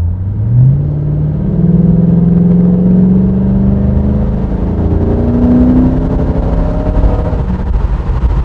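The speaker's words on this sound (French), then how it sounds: "Vous avez entendu le V8? C'est génial." A 2007 Ford Mustang V8 accelerates hard from a standstill, its loud, close engine note rising steadily through the gears in a continuous rumbling roar with no talk.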